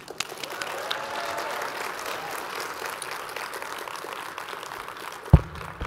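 An academic audience at a mathematics talk breaks into sustained, even applause that holds steady for several seconds and ends abruptly with a thump.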